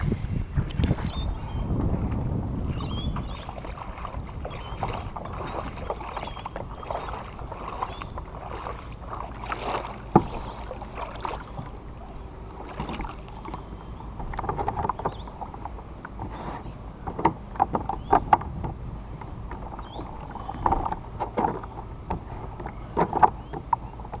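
A paddle dips and splashes steadily beside the Banshee 11X fishing kayak, 32 kilograms and 11 feet long, out on open water, with rhythmic strokes, light water sloshing and some wind buffeting the microphone.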